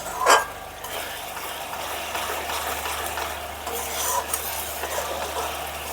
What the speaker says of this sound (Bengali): মশলাটাকে ভালো করে কষিয়ে নেব যতক্ষণ না তেল ছেড়ে দিচ্ছে ততক্ষণ